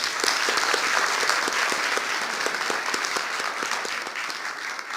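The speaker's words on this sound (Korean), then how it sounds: "여러분의 힘찬 박수로서 시작할 수 있도록 하겠습니다." A meeting audience at a joint national committee and regional chairs session of the Justice Party in 2013 breaks into vigorous applause, dense sustained clapping from many hands filling the room with no voices.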